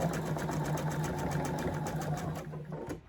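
A sewing machine runs at a steady fast pace while stitching over bulky quilt seams, its motor hum and needle rattle close and continuous before slowing and stopping near the end.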